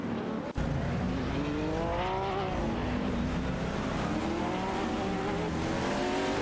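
Race cars in a video game, including a Porsche 911 997 GT3 RSR battling a Morgan Aero 8 GT2, roar steadily with engine notes rising and falling through gear shifts, after a brief sharp click near the start.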